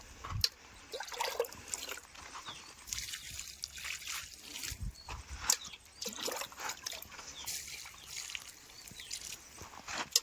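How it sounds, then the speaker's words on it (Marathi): Water poured slowly, a little at a time, onto soil covering freshly planted cuttings on a farm, an intermittent trickling and soft splashing up close, quiet between pours. "फक्त थोडं थोडं थोडं थोडं थोडं थोडं पाणी ओतून द्यायचं"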